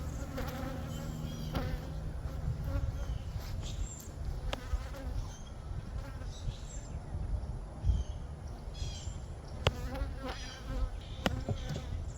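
Dense buzzing of many honeybees swarming around a hive with queen cells, a close continuous hum with individual bees droning past, no talking.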